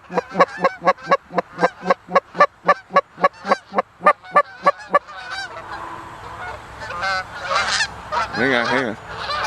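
Geese honk as they come in to land over a hunting spread: a loud, close run of about eighteen evenly spaced honks, then a jumble of overlapping calls and wing noise.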